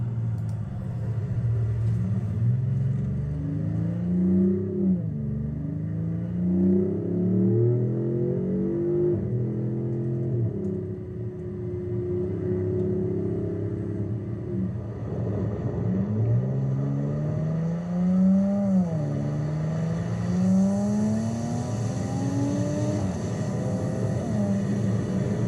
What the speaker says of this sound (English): So both cars sound really good.